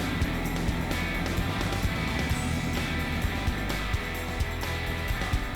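A 4x4 with diff locks engaged labours up a rocky step on a Cape York track, engine droning steadily and loudly close by, with bumps and knocks as a wheel lifts; no talk.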